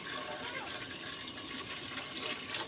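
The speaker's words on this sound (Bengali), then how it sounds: "আমি জলটা আরও দেবো, জলের পরিমাণটা কম হয়ে গেছে, এই জলটা আমি আরও দিয়ে নেবো" Water pours into a cooking pan in a home kitchen, a steady close splashing and trickling stream that runs continuously for a few seconds.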